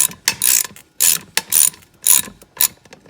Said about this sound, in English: I'm gonna get a little 8mm ratchet.